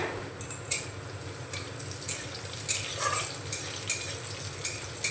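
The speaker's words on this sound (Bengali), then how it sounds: "রসুন কুচি আর আদা কুচি একটু হালকা নাড়াচাড়া করে নেব।" Chopped garlic, ginger and slit green chillies sizzle softly in hot oil while being stirred, with a steady frying hiss broken by light, intermittent scraping taps of a spatula against the pan.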